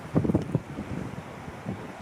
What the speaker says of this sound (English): I'm just going to get out of the wind